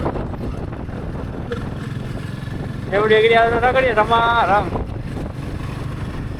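Strong wind roars and buffets the microphone throughout, with a voice speaking briefly partway through.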